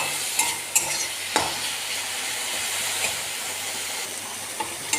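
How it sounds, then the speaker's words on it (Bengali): Garlic paste fries with already-fried prawns in a pan, giving a steady, close sizzle. Occasional sharp clicks and scrapes of stirring break through, with no talking. "রসুন বাটাটা দিয়ে ভালো করে ভাজবো।"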